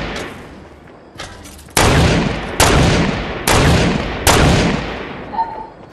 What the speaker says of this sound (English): Is that you shooting?